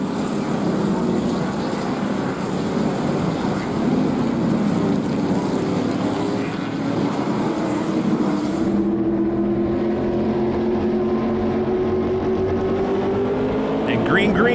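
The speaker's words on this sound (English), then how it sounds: "TA2 at Road America, we're on board right now with Mike Skeen and his Liqui-Moly Turn 14 distribution, Stevens Miller Chevrolet Camaro in P1" Onboard engine of a Chevrolet Camaro TA2 race car at Road America, a loud, steady drone that runs unbroken, with a gear change or shift in pitch partway through, as the revs climb again toward the end.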